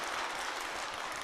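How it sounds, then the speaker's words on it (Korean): A brief burst of steady, dense clapping from a gathered audience applauding young people during a talk, heard alone without speech. "청년들 위해서 박수 한번 치겠습니다"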